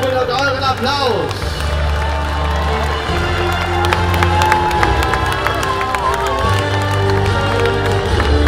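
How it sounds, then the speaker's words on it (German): Crowd at a knight tournament show cheering and clapping for a knight, a steady roar of shouts and applause under an announcer talking, with a brief whistle early on. "Ritter von Dorn, holt euch euren Jubel und euren Applaus."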